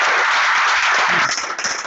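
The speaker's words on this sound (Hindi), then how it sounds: "ताली हो जाए इन लोग के लिए" A group claps loudly for students in a dense burst of rapid, overlapping claps that stays steady, then eases slightly near the end.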